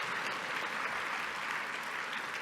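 Steady applause from a conference audience, fairly loud and continuous throughout, a dense wash of clapping hands with no voices on top.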